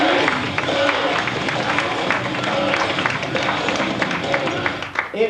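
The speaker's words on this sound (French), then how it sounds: "Applaudissez, pareil" Gala crowd applauds in a dense, steady wash of clapping and cheering that fills the room, with voices mixed in, fading slightly at the very end.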